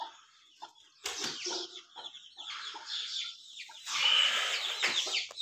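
Chickens cluck and squawk in agitated bursts in a birds' cage, with a rooster crowing loudly near the end and a flurry of flapping in between, as an eagle attacks the chicks.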